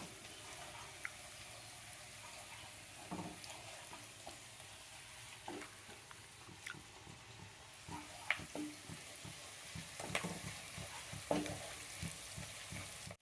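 Ginger and curry leaves fry in a pan with a soft, steady sizzle, punctuated by repeated scrapes and taps of a stirring spoon that grow a little busier toward the end.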